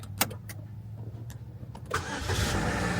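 A used car left buried in snow cranks over and fires up, the starter churning briefly before the engine catches at about two seconds and settles into a steady, loud idle close by.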